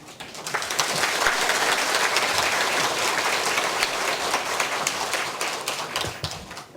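Congregation applause in a Korean church after a week of Bible lectures, a broad steady patter of many hands swelling in and tapering off, with no talking.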